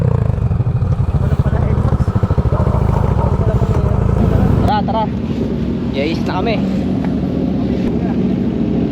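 A big bike motorcycle engine idles loud and close with a rapid throbbing pulse, then drops to a lower rumble midway, with wind buffeting the microphone and faint voices in the background.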